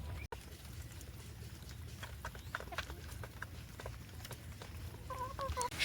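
Farmyard chickens at a rural home cluck faintly in short bursts over a low steady background, growing more noticeable toward the end.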